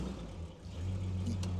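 A 1952 Delahaye 235 Targa with Antem coachwork drives over a rough, rutted test track after a corn harvest, its engine producing a low rumble that swells after a brief dip, with faint knocks near the end.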